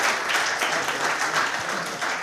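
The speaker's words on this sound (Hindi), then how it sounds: "आप इन लोगों के लिए भी ताली इसलिए बजाइए" Audience applause at a tax law seminar, steady clapping from a room of attendees over a couple of seconds, moderately loud with no talk on top.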